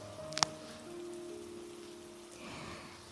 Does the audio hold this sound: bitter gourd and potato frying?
no